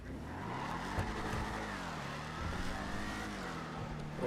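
Corvette engine in a GTA video game, a continuous close car engine drone with pitch rising and falling as it revs and shifts, loud and alone with no talking.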